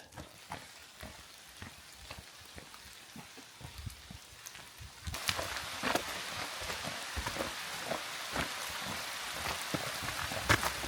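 Water drips from rain-soaked trees along a forest trail on a mountain ridge in Slovenia, a steady patter of scattered drops that grows denser and louder about halfway through, with no voices.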